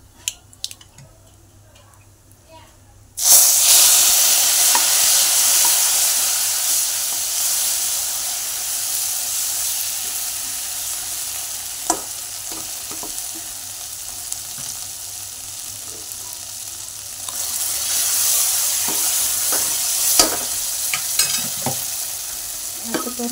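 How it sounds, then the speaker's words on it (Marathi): Spice masala goes into a hot curry-leaf tempering for sambar and erupts into a loud, sudden sizzle after a quiet start. Steady hissing follows with occasional scraping from stirring. "आता हे मसाला टाकलेला हे आपण असंच घेऊन फोडणीत घालायचा आहे।"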